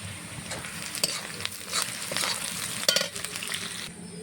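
Bay leaf and spices frying in hot oil for a jackfruit and prawn dish, a crackling sizzle punctuated by sharp spatula scrapes and clinks as the pan is stirred, close and fairly loud.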